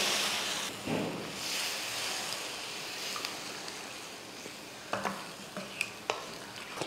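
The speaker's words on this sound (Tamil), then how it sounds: "இப்போ இதில் தண்ணி சேர்த்துருவோம்." Water poured into roasted semolina with tomato masala in a pan hisses and sizzles loudly at first, then eases to a softer bubbling with a few light clinks of stirring.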